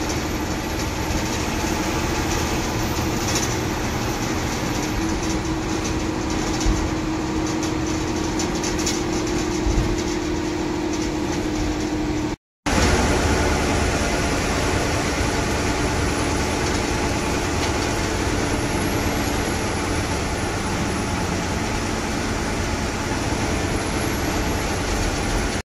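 Tata BS6 MSRTC Lal Pari bus driving at night on the Pune–Kolhapur highway toward Khambhatki Ghat, a loud steady engine and road drone heard from inside, broken by one brief gap, with no talk.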